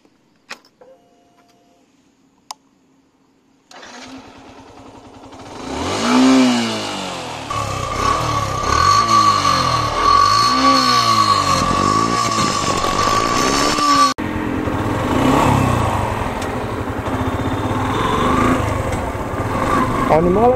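A Yamaha FZ-S V3 motorcycle engine hums steadily on a test ride, rising and falling with throttle changes through the ride, with a rider talking over it for much of the time.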